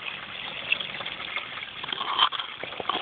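Water flowing steadily through a small bucket sluice used for gold prospecting, a continuous close gush and trickle with a few brief splashes, no talk.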